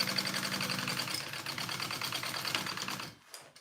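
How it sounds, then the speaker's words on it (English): A sewing machine basting the exterior fabric and lining of a bag's back piece together runs in a steady rapid whir of stitches, close and continuous, then stops abruptly near the end. "So I'm gonna baste my exterior and lining on this back piece that we just sewed."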